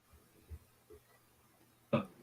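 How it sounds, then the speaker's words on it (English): A few soft low throat sounds, then one short sharp cough near the end, close by in a quiet room. "coughing in the background there"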